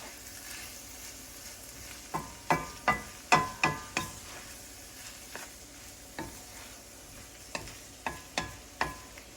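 Crawfish stock, made from boiled crawfish heads, poured into a flour roux over medium heat, a soft steady sizzle broken by a run of sharp, rhythmic scraping stirs, loud in bursts then lighter and more scattered.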